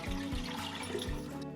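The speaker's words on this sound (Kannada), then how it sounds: "ಫಸ್ಟಿಗೆ ಅದಕ್ಕೆ ನೀರು ಹಾಕ್ಬೇಕ್ರಿ." Water is poured into a vessel to make Ugadi neem water, a continuous splashing trickle with a few low gulping pulses, heard alone and fairly quiet.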